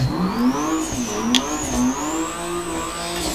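A car spins donuts in BeamNG.drive, its engine revving up and down in continuous waves with a rising and falling pitch, loud and close, with a hint of tire squeal and no talking.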